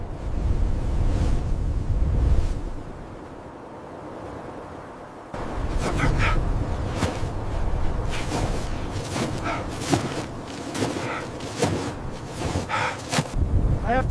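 Strong wind buffets the microphone in frozen Yakutia wilderness at extreme cold, heavy low rumbling gusts that drop briefly then return with sharper flapping, crackling bursts.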